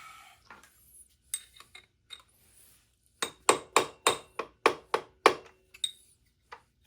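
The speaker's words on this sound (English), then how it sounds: "So now we can hammer it down." A hammer strikes metal on a 1974 Yamaha RD200A motorcycle in a quick run of about eight sharp, ringing blows, preceded and followed by a few lighter taps and clinks.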